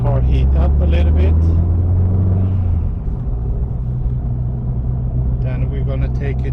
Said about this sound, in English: So now we're just gonna let the car heat up a little bit.